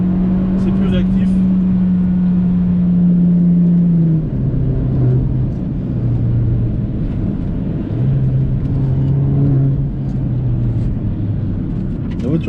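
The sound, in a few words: Opel Astra OPC 180 hp car engine driving in sport mode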